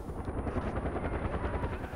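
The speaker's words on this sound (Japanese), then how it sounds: "あれはヘリか。" A helicopter in the video game Far Cry 4 makes a loud, continuous rotor thump and engine roar, steady and close throughout two seconds, with no voices over it.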